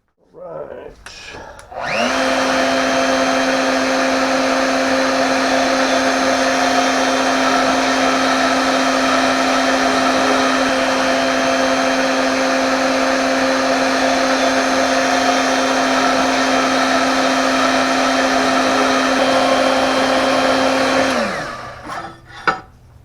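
A power tool cutting out steel garden-tool tines gives a loud, steady whining drone that spins up, holds evenly for about twenty seconds, then winds down to a stop.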